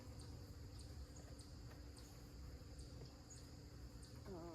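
Honey bees swarm around an opened hive during a September inspection, their dense, steady buzzing filling the air at close range without a break, with light rustling mixed in.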